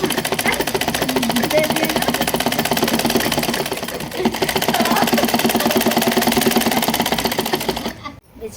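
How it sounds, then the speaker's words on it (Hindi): A foot-operated treadle sewing machine stitching a Patiala salwar runs in a steady, fast mechanical chatter for about eight seconds, loud and close, then stops abruptly as someone speaks briefly. "पैर वाली मशीन में रखनी पड़ेगी।"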